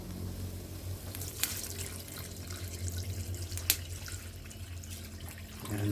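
Water runs steadily into a pot for cooking bihon noodles, a soft continuous pour with a couple of faint clinks, quiet and close.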